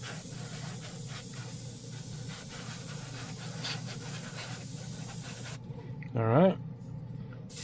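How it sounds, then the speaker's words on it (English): Airbrush gun blowing plain air with no paint, a short steady hiss that rises and fades near the end, following a long stretch of quieter background noise; a voice speaks briefly before it. "I'm gonna go ahead and hit it with some plain old air."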